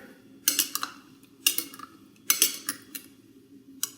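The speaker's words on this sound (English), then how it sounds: "Now I'm gonna quickly give this a little stir here." Water holding fruits and vegetables stirred in a container, heard as several sharp clinks and taps of a utensil against the vessel, spaced about a second apart, close and moderately loud.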